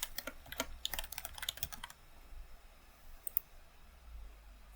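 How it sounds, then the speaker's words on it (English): Keys clatter on a computer keyboard fitted with small circular rubber dampeners on every key. Fast, close, muted clicking for about two seconds, then near quiet with a few faint stray taps. "This is supposed to be a silent keyboard. I installed little circular rubber things on every single key of this keyboard"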